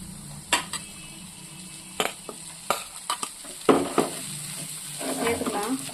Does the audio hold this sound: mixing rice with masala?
yes